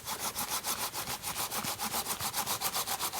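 Rhythmic hand-saw strokes cutting through damp wood outdoors at a snowy mountain campsite, about sixteen even back-and-forth rasps in steady succession, close and fairly loud with no talking.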